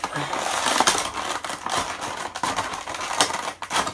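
A Funko Pop Dragon Ball Goku figure being unboxed, with crinkling, scraping and tearing of cardboard and plastic packaging close up, continuous and busy, with occasional talk mixed in.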